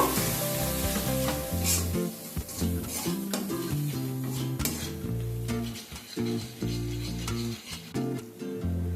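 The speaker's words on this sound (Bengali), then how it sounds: "এবার মশলাটাকে খুব ভালোভাবে কষিয়ে নেব" Masala spices fry and get stirred in a pan with a continuous sizzle under prominent background music, broken by occasional faint scraping.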